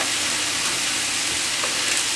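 Skirt steak sizzles steadily in a hot pan, a loud, dense, unbroken crackle of frying fat filling the whole moment without any voices.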